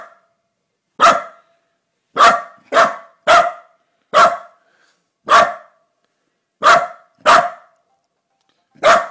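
A dog barks in short, sharp, separate woofs at an iPad, about nine barks over several seconds, some in quick pairs, close and loud with no talking between them.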